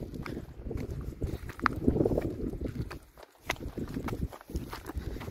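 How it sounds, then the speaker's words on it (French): Blustery coastal wind buffets close against the microphone in rough, uneven gusts, with brief lulls and some clattering knocks underneath. "je sais pas si vous allez m'entendre avec le vent"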